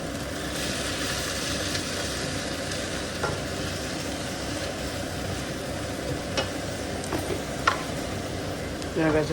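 Okra cooking in a home kitchen pan is stirred with a steady sizzle and frying hiss, a few louder scrapes and clinks near the end, with voices faintly present in the background.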